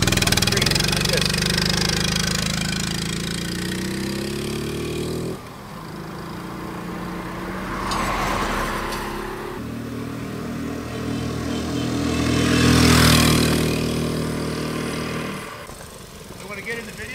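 A 1973 Honda ST90 Trail 90 motorcycle rides along a street, its small engine droning and shifting pitch through gear changes, with revs rising and falling at close range while people talk over it.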